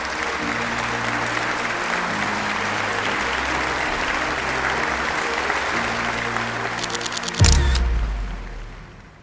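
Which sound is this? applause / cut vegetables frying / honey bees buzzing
applause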